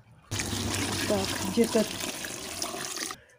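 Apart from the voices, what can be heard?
warm water poured from a bucket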